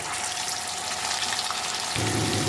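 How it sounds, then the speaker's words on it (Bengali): Chicken pieces frying four at a time in oil left over from browning onions for a chicken biryani give a steady, close broadband sizzle, which grows louder and fuller toward the end. "চার পিস চার পিস করে চিকেন দিয়ে আমি চিকেনগুলো ভেজে তুলে নেব"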